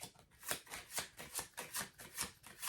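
A deck of tarot cards shuffled in quick repeated riffles, each a crisp papery flutter in a steady rhythm, close and fairly quiet with no talking.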